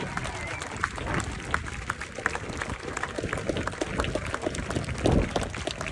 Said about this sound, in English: Let's give them a massive round of applause for Jono's incredible support crew.